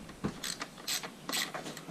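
Ratchet wrench clicking while loosening a bolt on a dirt bike, with several short bursts of rapid metallic clicks in an uneven rhythm, close by and fairly quiet.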